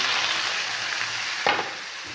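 Vegetables for cauliflower rice, including tomatoes, onions, green chillies and beans, fry on a high flame in Chinese style, giving a steady broadband sizzle with a brief louder burst of stirring or added food partway through.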